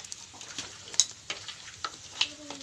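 Ginger stirred in a hot pan for ginataang kabayo: a steady soft sizzle with scattered light scrapes and clinks of a utensil against the pan, close and fairly quiet, no voices.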